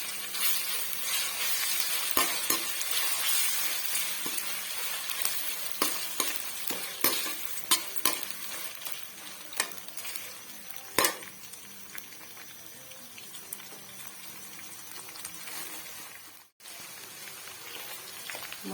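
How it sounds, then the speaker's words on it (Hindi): Ginger and garlic sizzle in ghee in a pot while making dal rice, a steady moderate frying hiss broken by occasional stirring clicks and scrapes, with no talking. "ये देखें यहाँ पे अदरक लहसुन जो है वो मैंने इसमें डाल दिया है।"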